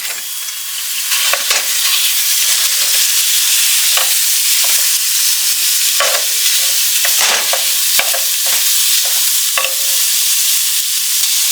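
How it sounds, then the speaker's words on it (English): One pound of ground beef sizzling loudly in a pan, with a steady frying hiss and scattered spatula scrapes and taps as the meat is stirred, close up and with no voices. "first thing I'm going to do is add in our 1 pound of ground beef"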